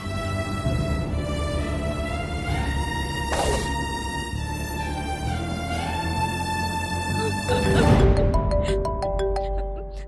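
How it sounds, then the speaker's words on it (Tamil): A phone ringtone plays as an incoming call arrives in a Tamil TV drama scene, a repeating melodic tone sustained for several seconds at steady volume, with a brief louder burst near the end. "சந்தோஷ், சஞ்சீவ் கூப்பிடுறான்."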